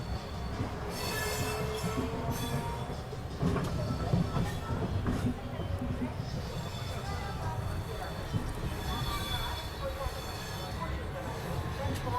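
A Western Railway passenger train, the 12793 Rayalaseema superfast express between Tirupati and Nizamabad, rumbles along on its rails with continuous rolling noise, wheel squeal and rhythmic clatter, heard from on board with people talking throughout.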